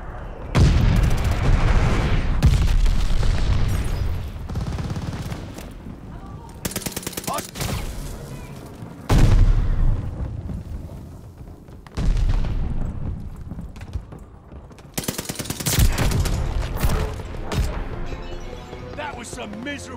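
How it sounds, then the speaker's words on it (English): Enemy glide bomb explosions and gunfire in Call of Duty: Vanguard, heavy booming blasts and bursts of machine-gun fire that come in waves close up, mixed with voices talking. "Enemy glide bomb incoming."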